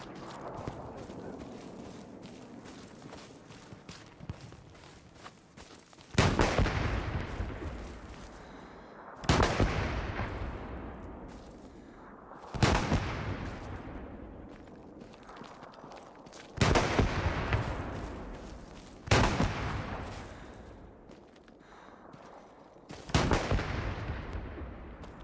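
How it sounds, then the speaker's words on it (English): Artillery fire in the World War II shooter Hell Let Loose: six heavy booming blasts at irregular intervals, each a loud sharp onset trailing into a long rumbling decay, over a low murmur of background battle noise. "You can definitely hear their Arty shooting up."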